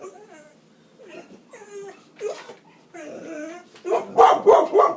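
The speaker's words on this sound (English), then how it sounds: "That's our dog Lucy." A pet dog whimpers and yips in a room during a card game, the cries growing into louder, insistent barks toward the end, with no talk over them.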